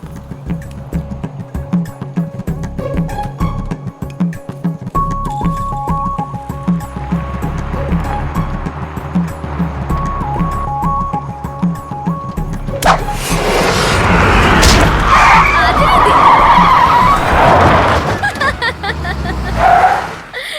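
A car arrives with a steady engine drone that builds, then breaks into a loud, rough rush of a skid near the end. There is little clear talk.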